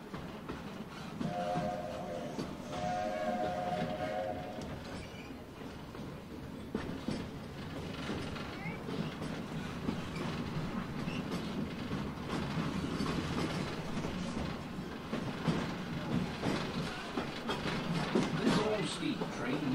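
Walt Disney World Railroad steam train rolling along its track, steady rumbling rail noise with clickety-clack throughout, and a brief whistle-like tone early on; a voice speaks over it.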